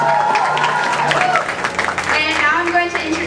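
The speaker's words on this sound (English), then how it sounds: "Give them a round of applause." A crowd at a costume contest event applauds a band, clapping mixed with cheering and overlapping voices, loud and close throughout with people talking over it.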